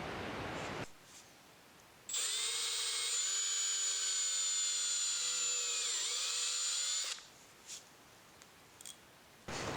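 A cordless power drill whines loudly for about five seconds at steady speed, dipping briefly under load, while drilling during a dual battery install in a Chevy Colorado; quiet room noise before and after.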